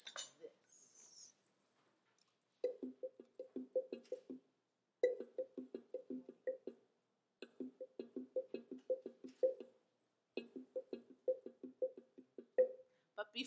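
A fancy wooden slit drum of the tapo or taponatzle kind played in short rapid bursts of hollow woody knocks, grouped into repeated phrases separated by brief pauses, clear and alone with no voices.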